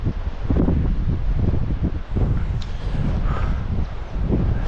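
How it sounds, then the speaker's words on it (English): Strong wind buffets the microphone on an exposed mountain trail up Lion's Head above Cape Town, a constant loud roar with gusty rumbling and no talking. "It's getting quite windy now."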